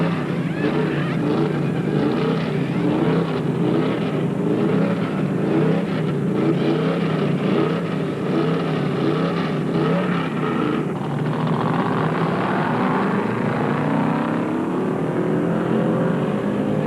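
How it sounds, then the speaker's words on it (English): A 1975 NASCAR Chevy stock car at Rockingham's Carolina 500 rumbles steadily with a loud engine drone while other race cars run on the track, the pitch shifting as the car slows into the pits. "Another top contender, Darrell Waltrip, slides his Chevy into the pits for that same rubber and fuel treatment"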